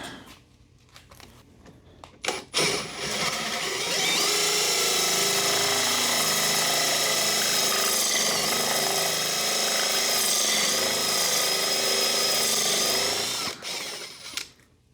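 A power drill fitted with a countersink bit whirs loudly at a steady pitch for about ten seconds, starting after a few clicks and handling noises, then winding down.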